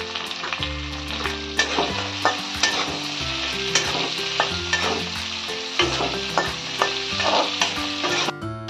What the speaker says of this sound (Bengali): এর সঙ্গে আমি এই দেখুন কাজুগুলো এই টমেটোর সাথে হালকা ভেজে নেব